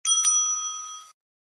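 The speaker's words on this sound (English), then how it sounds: "The timekeeper will ring the bell once" A single clear ring of a bell struck by the timekeeper at a school English debate, bright and sustained for about a second before stopping abruptly, heard alone in a quiet room.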